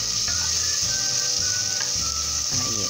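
Onion and garlic fry for a Peruvian olluquito con carne, a loud continuous sizzle with scraping strokes of a utensil stirring them around the pot.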